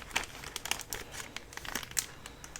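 A plastic lunch bag, holding paper trim for dyeing with inks, crinkles close by in quick, faint, irregular rustles and crackles with no talk.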